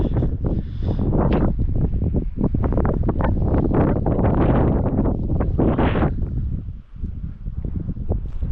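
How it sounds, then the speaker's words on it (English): Strong gusty wind on a Scottish hill scramble buffets the microphone in loud, roaring surges that rise and fall continuously, with a brief lull near the end. "It's very windy."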